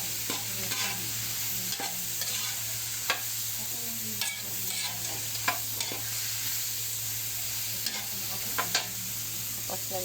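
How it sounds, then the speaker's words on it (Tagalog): Garlic and onion sauté in a pan with a steady crackling sizzle, broken by repeated sharp scrapes and clinks of a spatula stirring against the metal over a constant low hum; no one speaks. "Naggisa lang ako ng bawang at sibuyas."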